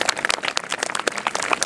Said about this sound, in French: Allez, on va l'applaudir.